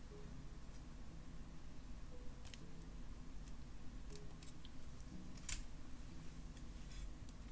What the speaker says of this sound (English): Now let me cut off the excess.